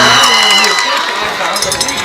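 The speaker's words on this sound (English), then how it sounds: "Oh, and the crowd's going crazy." A high school football crowd at a Fredonia versus Spring-Griffith game erupts in a loud, brief burst of cheering and shouting.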